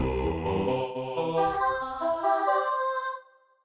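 A choir pad sample plays from FL Studio's DirectWave sampler: a lush, sustained chord of layered voices holds steadily and loud for about three seconds, then fades away quickly to silence.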